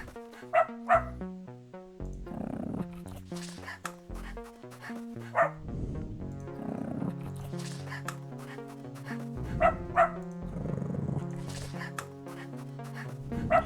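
A robot dog in the video game Scottside gives a handful of short barks and yips, spaced irregularly over a steady musical game soundtrack.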